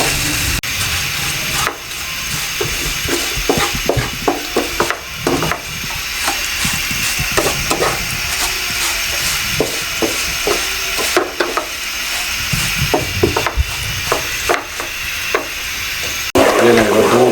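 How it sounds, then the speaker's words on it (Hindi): Vermicelli and nuts are roasted in a pan over a slow flame, with a steady low sizzle broken by repeated scraping and clinking stirs of a spoon against the pan throughout. "स्लो फ्लेम पे मैं इनको सबको भूनूंगा"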